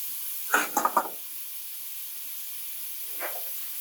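Jamaican-style curry shrimp cooking in bubbling butter in a pan, a faint steady hiss with a brief cluster of sputtering pops early on and one softer burst later.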